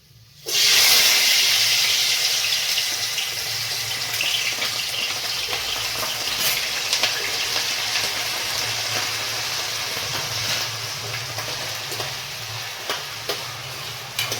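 Potatoes dropped into a hot pan start frying with a loud, steady sizzle and hiss that begins abruptly and continues unbroken, close and alone with faint clinks of stirring.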